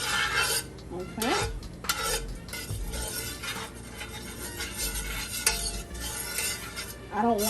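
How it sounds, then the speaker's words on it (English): A spoon stirs butter and garlic in a pan, giving steady scraping and clinking strokes against the metal with a soft sizzle underneath, close and continuous. "I'm going to stir that butter and garlic together."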